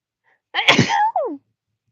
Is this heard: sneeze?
yes